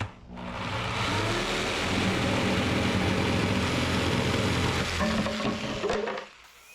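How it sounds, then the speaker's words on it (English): A jigsaw cuts through wood in one continuous rasping run lasting several seconds, starting and stopping cleanly, close and fairly loud with no talking. "then we're going to get my jigsaw and just cut the difference."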